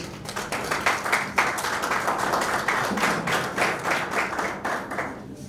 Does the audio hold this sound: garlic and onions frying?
no